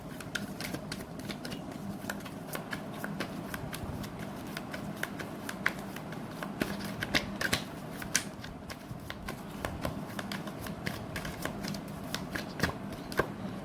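Tarot cards shuffled by hand, a steady run of soft crisp riffling flutters and taps, close and continuous throughout.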